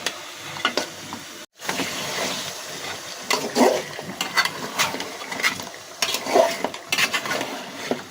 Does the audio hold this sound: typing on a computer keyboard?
no